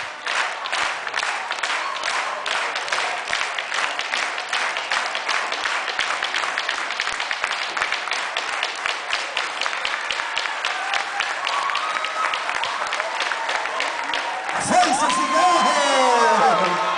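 An audience applauds at a folk dance show, with rapid, dense clapping, cheers and whoops from a lively crowd, then a surge of shouting near the end.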